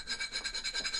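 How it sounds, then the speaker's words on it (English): A coin rubbed back and forth on 120 grit sandpaper stuck to a metal plate, a rhythmic rasping scrape of about seven quick strokes, close and clear with nothing else over it. "go ahead and start sanding."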